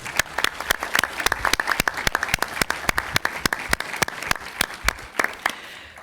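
An audience at a public information day in Udine applauds steadily, many distinct hand claps at an even, sustained rhythm filling the room throughout.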